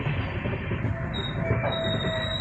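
A passenger train from Trivandrum Central to Nagercoil Town rumbles along the rails close by, with a thin, high wheel squeal rising and holding through the steady roar.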